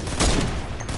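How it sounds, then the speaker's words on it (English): A single sniper rifle shot in Fortnite Save the World, a loud, sharp blast with a short ringing tail over steady game background noise. "Let me see if I can snipe one of them from here."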